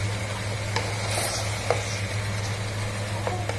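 Jackfruit curry seasoned with turmeric and salt is stirred in a pan, giving a steady low sizzle broken by a few sharp spoon scrapes and clicks against the metal. No one speaks.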